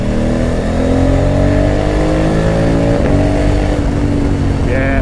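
Honda Africa Twin 1100 motorcycle from 2020, its engine revving hard and pulling under acceleration, loud and close with rising harmonic tones that hold steady throughout the stretch.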